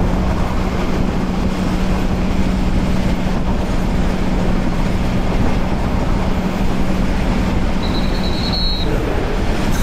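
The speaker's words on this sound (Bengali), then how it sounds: "সামনেই কিন্তু ধেয়ে আসতেছে চিলাহাটি এক্সপ্রেস খুব সম্ভবত" The Chilahati Express rushes past a Bangladesh Railway Balaka commuter train, heard from aboard as a loud, steady roar and rumble throughout, with a brief high tone near the end.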